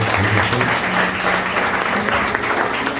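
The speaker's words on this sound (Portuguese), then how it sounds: "Você pode aplaudir o Senhor, parceiro." Sustained applause from a large church congregation, dense and steady throughout, with no pauses.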